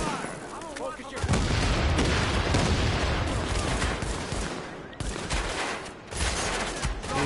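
Dense, sustained gunfire in The Division shooter game, continuous bursts and booms filling nearly the whole stretch, loud and close with shouted voices mixed in.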